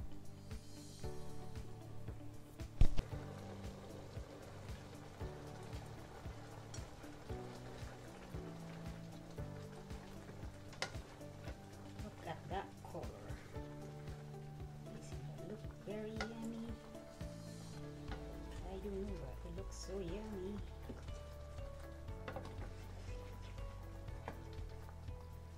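Shrimp in coconut milk simmers and sizzles softly in a pan on a Filipino-style stovetop, a steady faint bubbling with occasional clinks, under background music.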